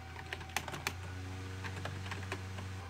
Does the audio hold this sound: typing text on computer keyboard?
yes